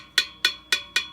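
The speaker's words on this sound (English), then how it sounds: "If you have one that needs to be tightened, it'll sound like this" A screwdriver taps a loose spoke on a Honda CB550 rear wheel four times in an even rhythm, giving a bright, short metallic ping with quick decay, up close and with no voice.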